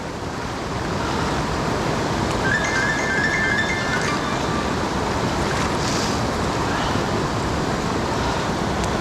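Dartmouth Rapids on the Youghiogheny River at Ohiopyle State Park rush in a dense, unbroken winter roar of whitewater, loud and constant throughout.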